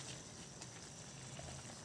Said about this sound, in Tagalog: Yan, kumukulo na siya.